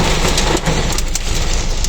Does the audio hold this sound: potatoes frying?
no